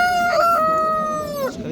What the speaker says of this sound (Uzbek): Bu ham xo'roz.